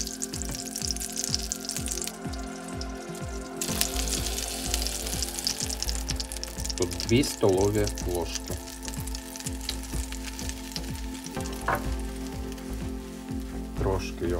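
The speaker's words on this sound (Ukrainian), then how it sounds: "На пательню викладаємо вершкове масло. І обсмажуємо трошки борошна." Flour fries in melted butter in a pan, a steady close sizzle with occasional stirring scrapes as someone talks over it.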